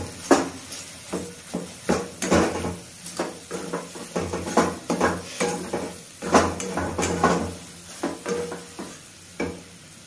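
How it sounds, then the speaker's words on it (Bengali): Cumin and coriander sizzle in a pan while being stirred, with a steady fry hiss beneath repeated sharp scrapes and clinks of a spoon against the metal, roughly every second. "আমি এখন জিরে আর ধনে দিয়ে ভালো করে কষাচ্ছি।"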